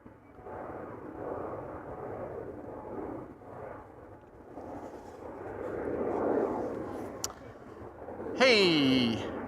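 An Embraer 175 jet taking off from Amsterdam Schiphol for Zagreb, a rumbling engine roar that swells and fades in waves, ending with a rising whine near the close; speech occurs intermittently.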